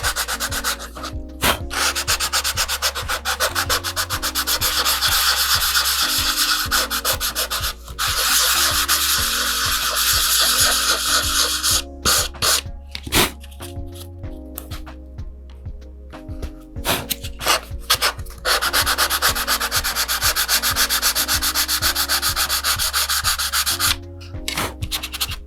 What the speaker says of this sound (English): what I think I'm going to do is I'm going to sand that down first